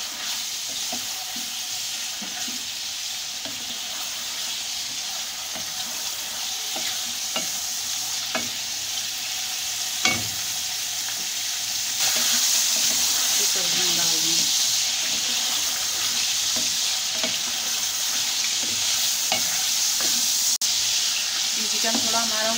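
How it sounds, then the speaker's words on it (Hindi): Chicken frying in a pan for a macaroni dish, with a steady close sizzle and occasional stirring scrapes. A louder hiss rises partway through and holds to the end. "ये ब्राउन हो गया, अब हम इसमें चिकन डाल देंगे। चिकन को हम फ्राई कर लेंगे।"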